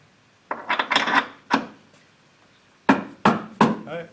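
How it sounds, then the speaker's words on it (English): A bolt hole in a welded bracket is reamed out during a 4L80E transmission install in a third-generation Camaro, producing short scraping, rasping metal strokes in two bursts separated by a quiet gap, close and fairly loud. "So I'm gonna go in here and ream it out a little bit so this bolt fits through."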